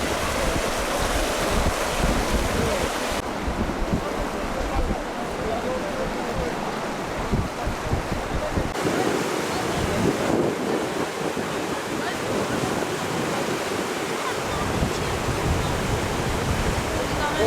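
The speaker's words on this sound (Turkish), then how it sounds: "Hocam köprünün üstünden su gidiyor." Floodwater rushes over a submerged bridge in rural Turkey, a loud, continuous broadband roar of flowing water with wind buffeting the microphone, steady throughout with no speech.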